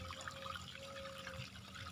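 Clear water flowing in a rural pond or stream setting, a quiet continuous trickle and gurgle with a faint steady tone running beneath it.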